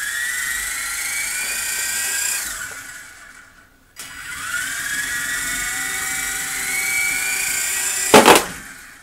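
Cheap toy RC helicopter spinning up to hover, a close, high-pitched whining motor and rotor drone that dies away, restarts and climbs again, ending with a brief clattering bump.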